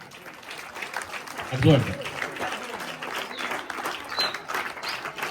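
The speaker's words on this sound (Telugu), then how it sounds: "గట్టిగా చప్పట్లు, చేతులు ఖాళీ ఉండొద్దు." Applause from an audience at a retirement farewell, with a sustained wash of clapping running under people speaking and a brief louder swell near the start.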